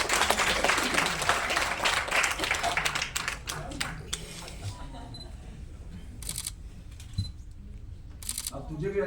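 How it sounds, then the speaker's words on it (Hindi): Dense, loud audience applause at an All India artist association award function fills the hall, then thins into scattered claps and quieter crowd noise, with a few crisp camera shutter clicks near the end. "एक बार जोरदार तालियों से स्वागत करें।"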